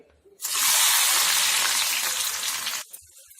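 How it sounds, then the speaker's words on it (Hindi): Four or five long-sliced onions hit a pan over a medium-high flame for frying until golden brown, bursting into a loud, close, continuous sizzle that holds for a couple of seconds, then cuts off abruptly. "अब यहाँ पे हम मीडियम टू हाई फ्लेम पे इसको अच्छे से गोल्डन ब्राउन होने तक फ्राई करेंगे।"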